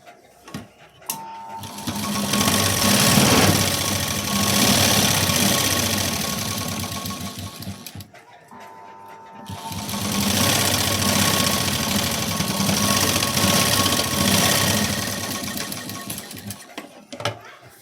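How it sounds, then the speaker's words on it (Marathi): A sewing machine stitches a blouse sleeve in two long, loud runs of rapid mechanical whirring and clatter, separated by a short pause. "दुसऱ्या बाजूला सुद्धा शिलाई देऊन घेते."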